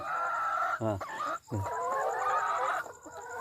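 Laying hens cluck and a rooster crows close by in a loud, busy farmyard chorus, with sharp bursts of calls over steady background clucking.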